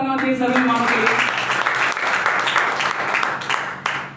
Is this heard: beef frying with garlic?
no